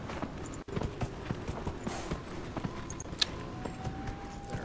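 Horse hooves clip-clop in Dragon Age: Inquisition, a steady run of light hoof strikes at moderate distance over a faint ambient game backdrop, with no talk.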